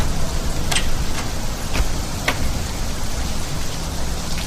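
A heavy rainstorm lashes down in a steady loud roar of rain, broken by a few sharp crackling bursts, with no voices.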